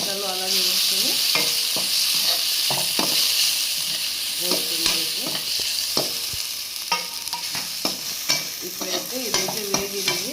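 Green chillies fry in a pan with steady, close sizzling while a spoon stirs and scrapes in irregular strokes, alongside ginger-garlic paste for a mutton liver fry.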